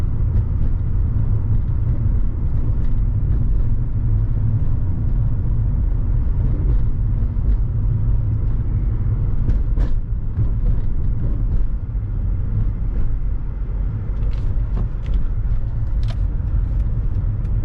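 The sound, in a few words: Mercedes AMG E55 Kompressor engine purring while driving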